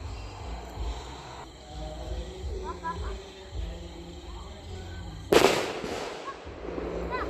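Faint outdoor murmur and voices on a New Year's Eve night give way to a single sharp firecracker blast, loud and close, followed by a fading crackle and rumble.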